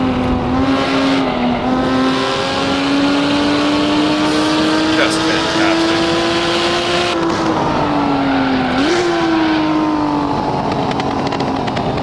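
In Assetto Corsa, a Lamborghini Miura P400SV engine drones loud and close, its pitch climbing slowly, dipping briefly, then rising again through gear changes, while someone talks briefly over it.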